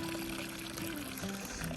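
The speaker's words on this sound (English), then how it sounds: "water bag I'm going to fill up" Water from a spring pouring into a water bag beside a creek on the Appalachian Trail, a steady close trickle under a low hum, with no talk.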